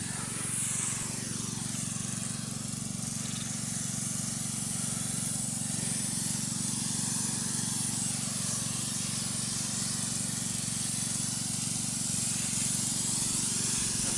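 A pump sprayer on a hose mists herbicide over grass and weeds in a steady, close hiss that runs unbroken throughout, with a low mechanical drone underneath.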